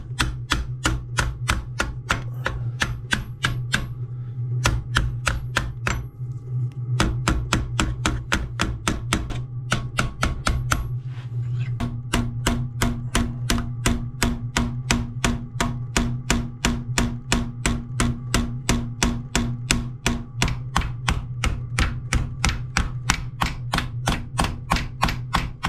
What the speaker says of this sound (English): just got a different hammer for in the corners here